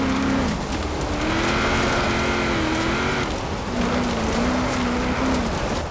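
A car in Forza Horizon 4 drives steadily near a quarry, its engine holding a continuous loud drone that rises and falls through gear changes and throttle shifts, with road noise underneath and no talking.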